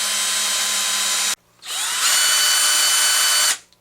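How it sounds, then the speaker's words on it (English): Power drill boring pilot holes for a Baja 5B rear skid plate, two loud steady whining bursts close by, separated by a brief pause. "we've got both of the pilot holes drilled now"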